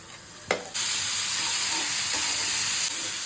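Tomato hits hot oil in a pan of frying mushroom curry, setting off a loud steady sizzle that rises suddenly after a brief clatter and stays bright and hissing to the end, with no voices.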